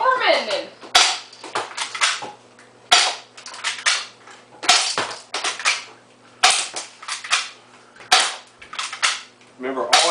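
Handgun shots fired at a target on a training range, sharp cracks repeating about every second or two, loud and close, with a voice talking between and over the shots.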